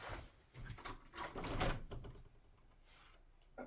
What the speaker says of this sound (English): opening the back door